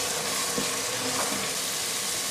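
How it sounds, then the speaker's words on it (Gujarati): Ground spice masala with red chilli powder, coriander-cumin powder and chole masala sizzles and roasts steadily in a pan, with faint scraping of stirring, close and continuous. "મસાલાને સારી રીતે શેકી લેવાના છે"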